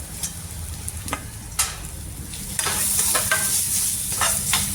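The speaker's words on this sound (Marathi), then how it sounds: "हे थोडेसे छोटे खोबऱ्याचे काप करून घेतलेले आहेत ते पण यामध्ये टाकून देऊ" Small coconut slices tipped into a pan of frying shevga bhaji and stirred, with a close sizzle, repeated scraping strokes and clattering taps, the hiss growing louder partway through.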